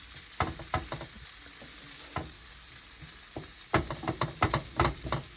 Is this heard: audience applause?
no